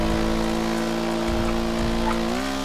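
Car accelerating in the GTA RP video game, a steady droning engine with sustained harmonic tone that climbs slightly in pitch near the end, loud and close with no talk over it.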